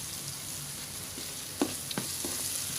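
Chicken offal stir-fried with holy basil in a pan, giving a soft, steady sizzle with a few brief scraping stir strokes, fairly quiet and with no talking.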